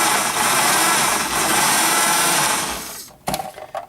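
An electric mixer blending flaky Applejack pie crust dough from scratch whirs loudly and steadily for about three seconds, then stops, followed by a few short clattering bumps.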